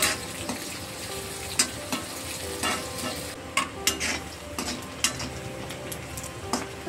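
Onion frying in oil with mustard seeds, cumin and curry leaves for a village-style brinjal potato curry: an even crackling sizzle throughout, punctuated by regular metallic spoon clinks and scrapes close by, no one speaking.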